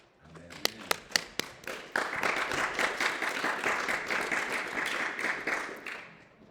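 Congregation in a church service applauding and cheering, opening with a few separate loud claps that swell into sustained dense applause with voices, fading at the end.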